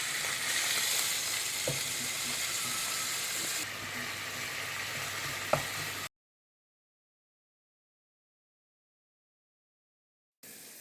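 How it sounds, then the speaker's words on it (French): Minced meat sizzling in a pan with browned onions for a Tunisian spinach tajine, a steady hiss of frying with a couple of faint utensil clicks, then silence and a brief return of the sizzle. "Après avoir doré les oignons, on va rajouter les viandes hachées."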